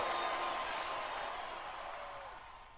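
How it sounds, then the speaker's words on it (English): Indianapolis fans cheer at a playoff football game in San Francisco, a broad crowd roar that starts loud and slowly fades, heard from a distance. "that's the Indy fans cheering"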